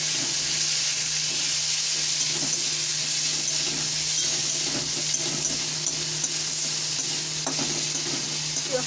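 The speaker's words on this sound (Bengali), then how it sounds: "পেঁয়াজটা একটু ভাজা ভাজা হচ্ছে" Sliced onions sizzle in a hot pan with black cumin seeds while a spoon stirs them, a steady close crackle and hiss with faint scraping and no talk.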